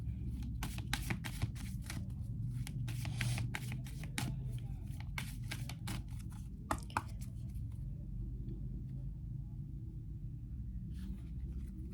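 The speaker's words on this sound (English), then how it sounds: "I'm going to shuffle again." Tarot cards are shuffled close by in a rapid riffling flutter for several seconds, then the handling slows to a few soft taps and quiet.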